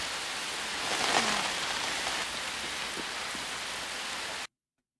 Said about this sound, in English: That's like the most rain I've ever seen.